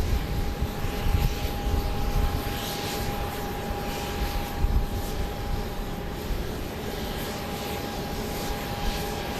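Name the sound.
Boeing 737-700 on final approach, flight from San Jose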